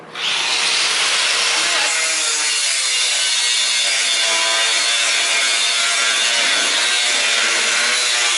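An angle grinder disc cuts through quarter-inch-thick angle iron, making a loud, steady, continuous high-pitched grinding whine that runs unbroken throughout.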